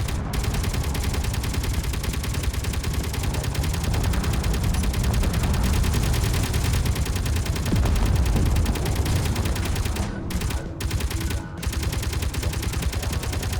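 Continuous heavy Gatling gun or railgun fire in the Space Engineers video game forms a dense, loud, unbroken rattle of rapid shots, with a few brief gaps near the end.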